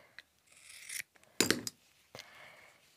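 Scissors snip through ribbon for a Christmas present bow, giving a few short crisp cuts with rasping blade slides between them, close and fairly quiet with no voices.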